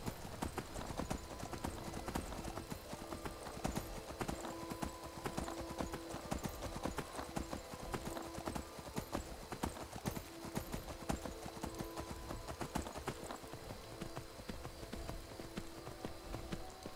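Horse hooves in the video game Skyrim clip-clop in a fast, steady galloping rhythm, continuous and close, with faint game ambience behind and no clear speech.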